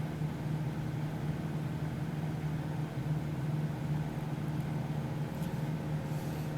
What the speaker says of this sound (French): Alors on entend le moteur qui s'emballe un petit peu